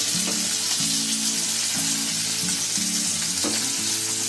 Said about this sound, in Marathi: आता ही मच्छी भाजायला आली आहे बघा